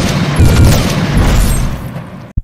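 Heavy, rumbling bursts of rapid gunfire from a giant robot in a game recreating Titanfall 2's Titans roar continuously for a couple of seconds, loud and booming, then cut off abruptly with a final thump.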